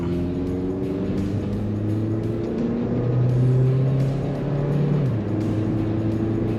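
A 2014 Honda Civic 1.8 S accelerates at speed, its engine note rising in pitch, dropping briefly at a gear change, then climbing again over steady road and wind noise.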